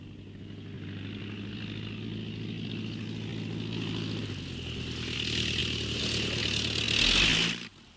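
A propeller plane's engine drones steadily as it comes in to land, swelling louder and brighter toward the end before cutting off abruptly, with no talk.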